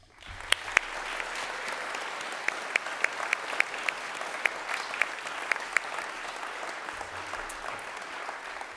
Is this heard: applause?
yes